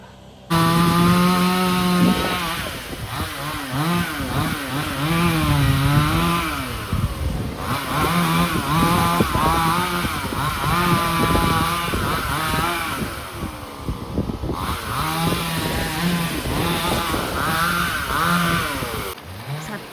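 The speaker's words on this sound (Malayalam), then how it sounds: "അപ്പുറത്തെ മരമൊക്കെ മുറിക്കുക കേട്ടോ ചുറ്റുമുള്ള മരമൊക്കെ" A chainsaw revs and whines continuously, its pitch rising and dipping as it bites into wood while trees around a house are cut down, loud and close, with brief pauses.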